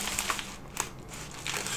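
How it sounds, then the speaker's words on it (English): Dull scissors slicing open the packaging of a 10 gram gold bar, giving quiet crinkly crunches with a few sharper snips in close, faint handling and no talking. "I will just get my trusty little dull scissors out, see if I can do something like this."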